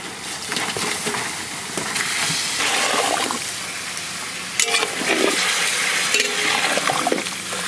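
Fried chicken being stirred into a cooked masala gravy with ghee and yogurt for a large village curry, wet scraping and churning over a soft sizzle, close and continuous with no talk.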